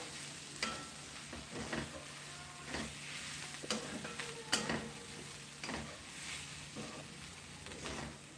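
Brinjal is sautéed in a pan with crushed peanut powder, giving a low steady sizzle under repeated scraping stirs of a spatula against the pan, soft and close, with no talking.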